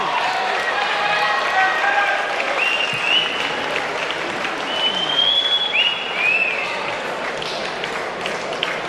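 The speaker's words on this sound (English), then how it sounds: "Now that a big round of applause for Gallant Paul Bourke" A crowd applauds steadily after a boxing bout, with whistles and shouts over continuous clapping that carries on for several seconds.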